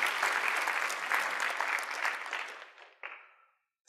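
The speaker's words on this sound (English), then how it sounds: "So round of applause." Audience applause at a Ruby programming conference talk, a dense steady wash of clapping that thins out and fades to silence near the end.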